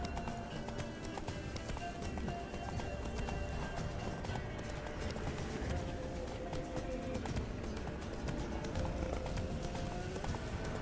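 In The Witcher 3 video game, the horse Roach gallops with fast, rhythmic hoofbeats that clip-clop steadily throughout, close and loud over dense game background sound.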